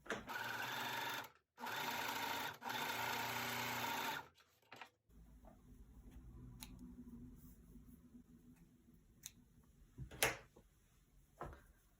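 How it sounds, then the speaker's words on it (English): A serger runs in several short fast bursts while finishing the top edge of a gusset lining for no-show underwear. Quiet handling of fabric and small clicks follow once it stops. "I like to start by serging this top edge of my gusset lining"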